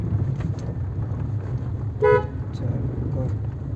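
A car horn gives a short toot during a driving lesson on a city road with a speed breaker and a U-turn cut. It is clear and close, set against steady engine hum and traffic noise, with faint voices in the background.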